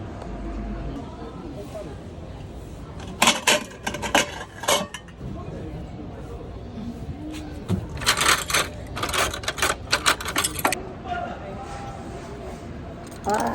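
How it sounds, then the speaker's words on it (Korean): Knives and plates being taken out of a box clink and clatter in bursts, close by, while people talk casually in the background. "나이프랑 접시는 상자에서 꺼냈어"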